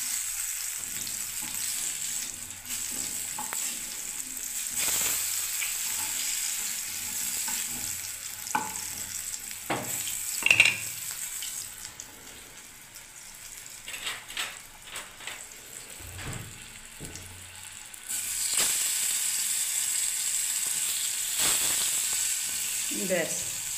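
Eggplant slices fry in a pan with a steady, close sizzle. Scattered clinks and scrapes of stirring come through, and there is no talk.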